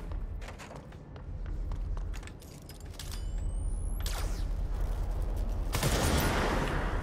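Bursts of gunfire in the video game Control: a scatter of sharp shots and thuds over a steady rumble, with a dense, louder volley near the end.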